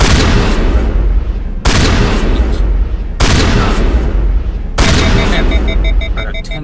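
Heavy weapon fire in the Mass Effect video game, four long, loud bursts of booming shots set off by short gaps, close and dense, with no talk over them.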